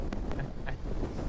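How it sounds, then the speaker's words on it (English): Steady wind roar buffets the microphone while riding a BMW 1250 GS motorcycle on a warm, windy day, a continuous low rumble with no break and no talk over it. "It is quite windy actually. Which you might actually hear on the screen."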